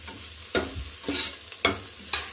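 A spoon stirring a soya mixture with garam masala in a pan for soya pulao: four evenly spaced scraping strokes with a light sizzle underneath, close and clear.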